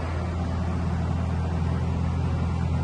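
A 2011 Okuma Space Turn LB3000EX CNC lathe running a light tooling test, a steady loud mechanical hum and drone with no talk.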